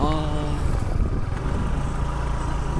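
A road vehicle driven toward Panvel gives a steady low engine and road rumble heard from inside, with a voice talking briefly at the start.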